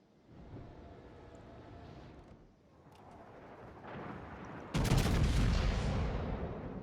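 Battleship main guns fire in the naval video game World of Warships, a deep booming salvo bursting in suddenly after a low rumbling build of engine and ambient game noise, then rolling off.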